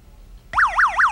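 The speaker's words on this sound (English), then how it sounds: "here is a battery or a couple of batteries, mm-hmm. and there is a buzzer" Battery-powered buzzer sounding as the switch closes, a sudden loud warbling electronic tone that rises and falls in quick repeated sweeps, close and alone.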